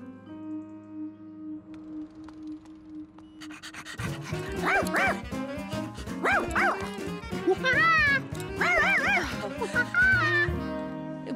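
A cartoon dog barks and yips repeatedly in a lively, rhythmic series, loud and close, while a voice speaks over the start.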